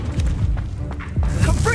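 A Confringo blasting curse cast in Hogwarts Legacy lets off a string of booming, crackling magical bursts that land close together over a steady low rumble of game sound.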